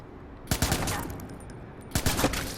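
Gunfire in the video game Watch Dogs comes as two short bursts of rapid shots, a few sharp cracks each, separated by a quiet gap.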